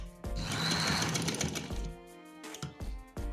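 Sewing machine running a finishing stitch along the end of a V collar neckline, with a close, rapid mechanical whir that slows and stutters into several short bursts and clicks.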